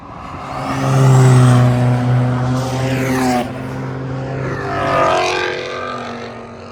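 A Honda Civic race car at a track cross event revs and pulls away, its engine note rising and falling in pitch as it accelerates past, loud and near, with no voices.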